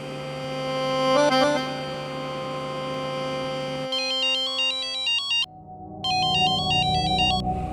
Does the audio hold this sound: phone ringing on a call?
yes